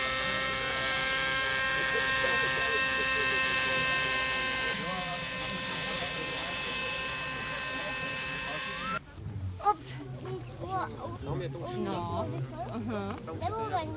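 A radio-controlled model helicopter fitted with a camera flies at an outdoor model show, its buzzing rotor and motor whine steady and fairly loud at first, then fading as people talk over it.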